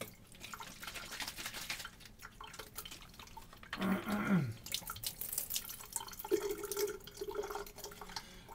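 Water poured from a container to rinse alcohol out of a bottle, with a gurgling splash that runs about a second and is followed by softer trickling and dripping at close range, no voices.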